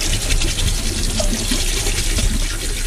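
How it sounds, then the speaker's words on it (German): An old toothbrush scrubs rapidly and continuously at a dirty sink siphon under a bathroom drain, a loud, close, rough brushing hiss that may be mixed with running water. "mit einer Zahnbürste, mit einer alten drüber gefahren. Das Ganze ein bisschen sauber machen und mal Wasser drüber laufen lassen."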